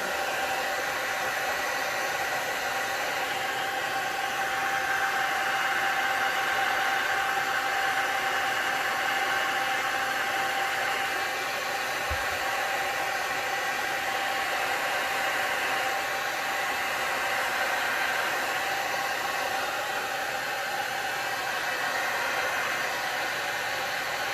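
A hair dryer blows steadily on alcohol ink poured over a tumbler, giving a loud, constant whooshing hum with one brief low knock partway through and no voices.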